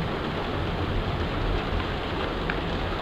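Steady, dense patter of rain during a hail storm at night, a continuous broadband wash that stays even and close throughout with no voices.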